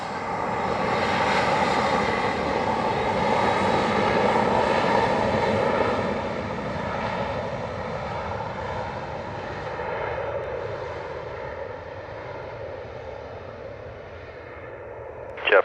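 An airliner taking off from runway 07 at Montego Bay, Jamaica: a loud, sustained engine roar with a rising whine that slowly fades as the aircraft pulls away.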